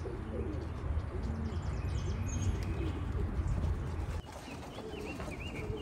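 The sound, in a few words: racing pigeons cooing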